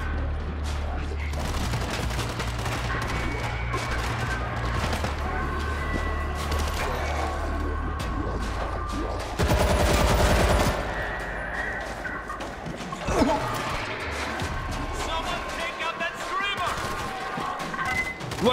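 Dense volleys of gunfire from several weapons rattle through a zombie fight in World War Z set in Moscow, shots aimed at a screamer, with a louder burst midway and voices calling out over the shooting.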